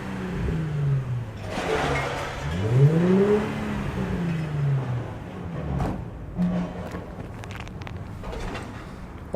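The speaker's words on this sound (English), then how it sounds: "Yes, we could start it. And that means you get to hear the vroom vroom." A 2003 Nissan Fairlady Z Version T (Z33) with an aftermarket JASMA exhaust revs up and falls back in a rising and falling engine note, close by and fairly loud, with a couple of blips later.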